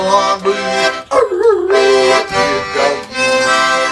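A hound dog barks and yips in quick, loud, close bursts, with a drawn-out whining howl in the middle and more sharp barks after it.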